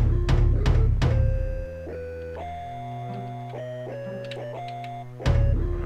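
Heavy thwomp blocks slam down in a platforming video game, three rapid booming impacts up front and another near the end, with tonal game music ringing between them.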